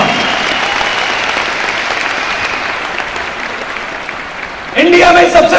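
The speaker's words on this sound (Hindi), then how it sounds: "तो सबसे पहले मैं एक बार जोरदार तालियां चाहता हूं उन लीडर्स के लिए" An audience at a Vestige award function in April 2022 applauds the leaders with loud, sustained clapping that fades slightly, then a voice breaks in loudly at the end.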